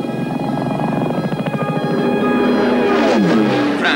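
Radio-controlled kamikaze aircraft with no pilots fly past, a steady droning engine roar that swells and sweeps in pitch near the end, loud and continuous with no talk.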